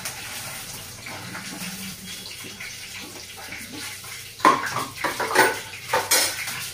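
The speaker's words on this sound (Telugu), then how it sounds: "ఫ్రై అయిపోయిన పీసులు ఒక ప్లేట్లోకి తీసుకోవాలి." Fried paneer pieces moved onto a plate, with metal utensils clinking and clattering sharply against the plate and pan, close and fairly loud, over a faint background of running water.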